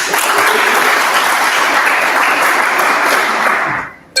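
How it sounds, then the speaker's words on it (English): Dense, loud audience applause after a startup pitch at a live demo night event, steady clapping from a sizable crowd that drops off abruptly near the end. "Round of applause again"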